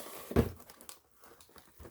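A fire alarm package being opened: one sharp crinkling tear of packaging up close, followed by faint, scattered rustling and handling.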